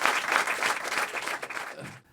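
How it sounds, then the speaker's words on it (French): An audience at a 25th-anniversary celebration applauds, steady dense clapping filling the room before fading out abruptly. "Vous allez applaudir la présence."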